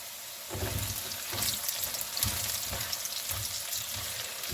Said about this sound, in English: I'm getting these potatoes to brown up some, and the onions are starting to come together here with the potatoes